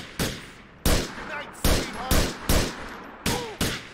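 Gunfire from the video game GTA IV cracks out in about seven loud, sharp shots at irregular intervals. Each shot rings out with a short tail, and faint voices sit between the shots.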